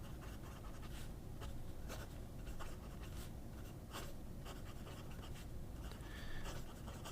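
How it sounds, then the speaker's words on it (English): Yowo broad-nib fountain pen scratching across paper, a faint continuous scritching of handwriting with small stroke accents, no voices. "I've not written with a Yowo broad nib that is so perfect."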